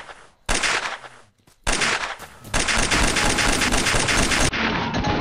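Dense bursts of automatic and rapid gunfire from the S.T.A.L.K.E.R. Oblivion Lost Remake video game, loud and close, coming in sustained volleys with two short pauses before a continuous stretch of firing.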